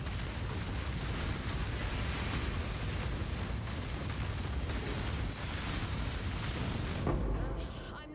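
Corpse explosions in the game Path of Exile, a dense, continuous roar of overlapping bursts and booms filling the whole stretch, with talk in the mix.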